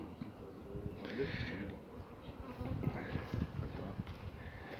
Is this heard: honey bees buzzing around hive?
yes